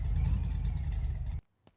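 Cyclone's truck rolls under a carport with its engine rumbling low and close for about a second and a half, then the engine cuts off abruptly, followed by a faint click.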